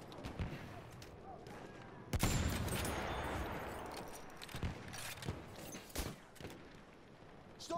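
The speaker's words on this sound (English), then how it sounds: "Maschinengewehr gesichtet." Battlefield 1 battle audio with heavy automatic machine gun fire, loud bursts and a sustained barrage, plus scattered sharp shots and explosions in a busy wartime soundscape.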